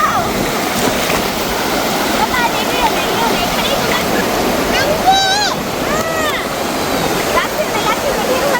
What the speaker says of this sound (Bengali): এখানে এরকম বড় বড় ঢেউ আসছে এবার কিন্তু